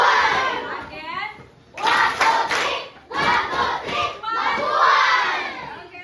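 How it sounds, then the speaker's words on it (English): Students in a classroom burst into a rhythmic mabuhay applause cheer, loud group shouting and clapping in repeated bursts with short pauses between them, filling the room up close. "Now let's give the group 3 the mabuhay applause."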